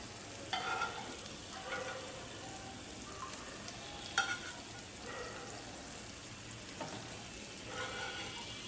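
Chicken pieces fry and are stirred in a pan of soy sauce, tomato sauce, salt, cardamom and chili powder for chili chicken, a soft steady sizzle broken by scattered scraping clinks of the spoon, with no talking.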